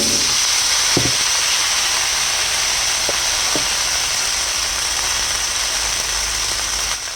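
Cauliflower and potatoes frying in hot oil for a fish curry give a steady, loud broadband sizzle and hiss, with a few faint clicks and taps along the way, and no voice.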